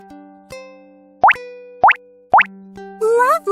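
Cartoon puff effect from an animated children's story about a micro excavator: a short breathy burst with a rising whistle-like tone. It comes at the end of a run of bright, springy zips over a steady musical note.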